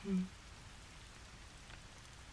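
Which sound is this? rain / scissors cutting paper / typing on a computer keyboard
rain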